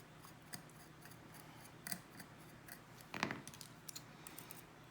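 Scissors trim cotton wick for a Coil Master Ray RTA, giving a few quiet, close snips spread across the moment, with a brief cluster of sharper cuts partway through and no talking.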